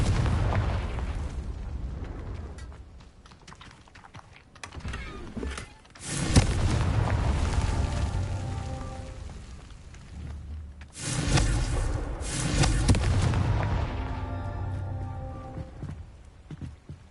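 Repeated fire-spell blasts from the Hogwarts Legacy video game, with loud booming bursts and sustained roaring rumble that swell around six and eleven seconds amid continuous game effects.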